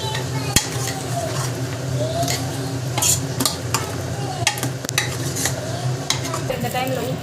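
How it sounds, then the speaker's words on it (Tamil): Dhaba-style mutton masala gravy sautéed in a pan: a spoon repeatedly scraping and clinking against the metal over a continuous gentle sizzle, close and busy. "நல்லா வந்து வதக்கி வச்சுக்கோங்க."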